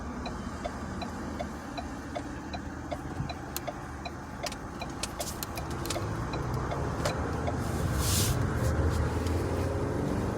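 A car being driven, with a steady engine and road rumble that grows slightly louder, and a regular ticking like a turn signal running through it, with no talk.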